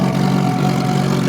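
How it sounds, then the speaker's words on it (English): A McLaren supercar idles at a car show, a loud, steady low rumble close by with a voice over it. "listen to the idle, dude"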